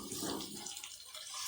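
Water poured from close by into ground spices frying in a pot, a brief splashing gush that eases off, moderately quiet and without speech.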